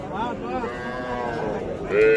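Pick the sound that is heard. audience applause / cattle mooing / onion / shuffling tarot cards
cattle mooing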